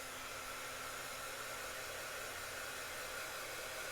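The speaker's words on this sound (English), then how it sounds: "now all we have to do is heat emboss it" A heat embossing gun for card making blows hot air in a steady, loud, unbroken rush that holds throughout with no talking.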